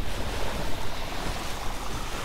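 A farming mech in Lightyear Frontier hoses water over an aluminium deposit, making a steady, loud broadband rush of spray that holds evenly for the whole stretch with no pauses.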